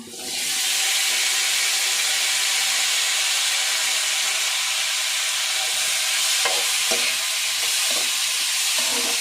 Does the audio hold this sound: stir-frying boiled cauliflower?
yes